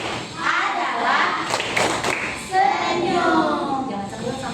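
Children's rhythmic clapping chant, tepuk sedekah, in a classroom lesson, with quick hand claps and thumps mixed with young voices chanting along.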